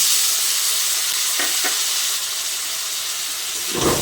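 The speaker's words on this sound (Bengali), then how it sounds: "এবার আলুগুলোকেও লালচে করে ভেজে নেব।" Potatoes frying in mustard oil in a pan after aubergines, a steady bright sizzle and hiss throughout with brief stirring scrapes, close and alone without talk.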